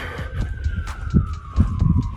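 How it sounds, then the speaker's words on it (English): A distant siren wails with a slowly falling pitch over low traffic rumble and scattered nearby knocks. "So listen to the sirens. It could be a police officer, or it could be an ambulance."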